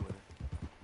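Hooves of a horse in the Red Dead Redemption 2 video game clip-clop in a quick, even rhythm, close and moderately quiet, with no talk over them.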